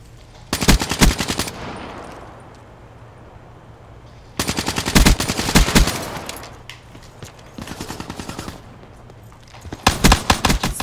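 Bursts of rapid gunfire in the video game Black Ops 3 during a pistol-only free-for-all match, loud clustered shots separated by short quiet gaps.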